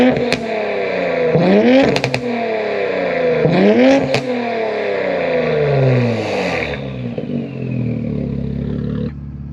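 A modified Infiniti Q50 with downpipes, a mid pipe, a muffler delete and an HKS blow-off valve revs hard several times up close, each rise and fall of pitch ending in sharp crackles, then settles into a rumbling idle.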